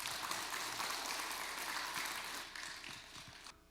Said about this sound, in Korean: 오늘 특별 강의를 해주실 안도현 시인님께 큰 박수 부탁드리겠습니다